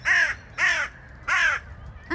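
A young crow calls in the open in autumn, giving three loud, harsh caws in an even rhythm plus the start of a fourth, each short and rasping, close by with nothing else heard.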